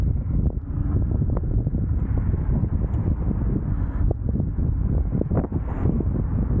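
Strong wind buffets the microphone with continuous low rumbling and gusty thumps during a mountain bike ride in South Korea, loud and unbroken throughout.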